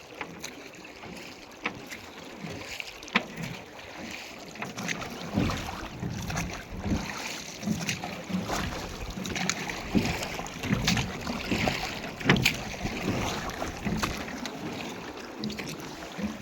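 A rowed boat glides across Ramdhari lake, with steady water sloshing and dull knocks against the hull under gusty wind buffeting the microphone for a long stretch.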